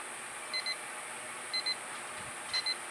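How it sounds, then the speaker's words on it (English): An alarm gives three evenly spaced pairs of short, high electronic beeps, about one second apart, moderately faint over a steady background hiss. "somebody wants to throw my alarm across the room"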